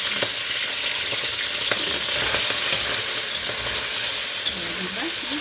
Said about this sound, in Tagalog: gigisahin ko yung hipon kasi mainit na siya eh